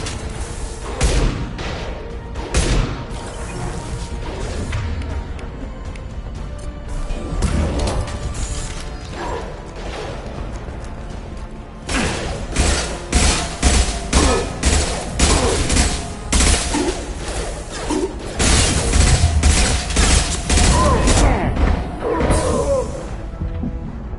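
Gunfire in the video game Mass Effect 2, sharp repeated weapon shots in irregular bursts over mechanical clanks and rumble, growing denser and louder in the second half.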